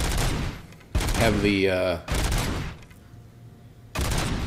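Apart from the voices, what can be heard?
three-round burst gunfire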